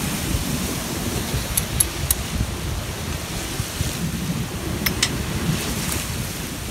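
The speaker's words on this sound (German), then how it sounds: "werden hier gleich mit 27 Knoten Wind aus 60 Grad empfangen" Strong wind of about 27 knots and rolling waves aboard a sailing yacht at sea between El Hierro and Gran Canaria, a constant loud roar of wind buffeting the microphone over rushing water, with no talk.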